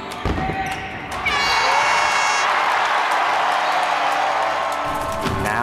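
Basketball crowd cheering and applauding for the Dixie State team, a loud sustained roar of voices and clapping swelling after a brief bounce-like thump, filling the space from start to end.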